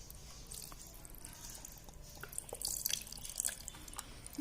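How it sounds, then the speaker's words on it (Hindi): Small splashes and drips of water being poured into cream in a pot for making homemade ghee, faint and intermittent, close by with no voices. "तो आइए हम इसमें थोड़ा सा पानी डालते हैं"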